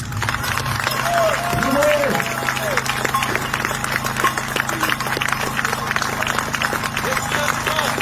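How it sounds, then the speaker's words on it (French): A crowd at an outdoor healthcare workers' rally applauds colleagues with steady, many-handed clapping under a persistent hum, while a voice rings out briefly near the start. "je voudrais juste qu'on les applaudisse"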